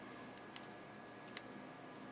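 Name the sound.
scissors cutting dimensional adhesive in half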